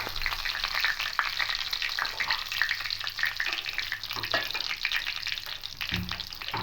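Whole cumin seeds and a bay leaf fry in hot oil for a bottle gourd and prawn dish, giving a continuous close sizzle with scattered crackles and light stirring, and no speech.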